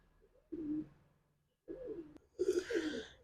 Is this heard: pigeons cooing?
yes